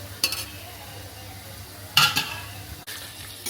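Chicken curry meat being stir-fried for kosha in a pan, with quiet sizzling and a few sharp bursts of spatula scraping and stirring against the pot, close by with no talking.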